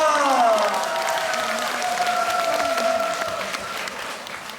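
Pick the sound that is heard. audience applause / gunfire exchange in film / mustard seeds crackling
audience applause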